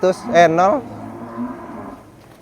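A single deep, drawn-out moo from a Madura bull close by, rising then trailing off, followed by quieter low lowing and faint background noise.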